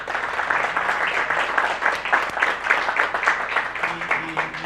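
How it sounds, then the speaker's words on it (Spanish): An audience at a talk on the evolution of typographic interfaces applauds, a dense, steady wash of many hands clapping that fills the room evenly from start to finish. "Entonces, demos un aplauso."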